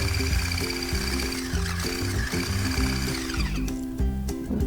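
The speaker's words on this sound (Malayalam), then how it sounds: "ഇങ്ങനെ ബീറ്റ് ചെയ്തുകൊണ്ട് നല്ല ഒരു സ്റ്റിഫ് ഫോമാക്കി എടുക്കാം" An electric beater whips eggs into a stiff foam for low-carb bread, its motor whirring steadily with a repeating wobbling pulse, close and loud throughout.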